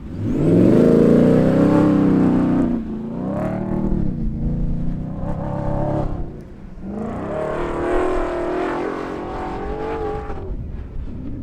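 A 2023 Ford Raptor R truck with a 10-speed transmission accelerates across sand dunes. Its engine surges and revs loudly, climbing through gears in rising sweeps with a dip around the middle, close and unaccompanied by talk.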